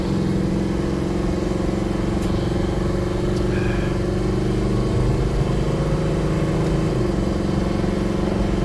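Engine and exhaust of a Chevy Nova and Camaro combined into a drag racer, a steady loud rumbling drone running continuously at close range with no talk.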